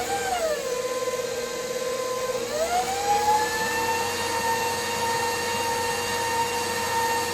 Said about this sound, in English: put this attachment to it. And let's see if that whisk will catch some of those hairs, those fibers for the sweet potato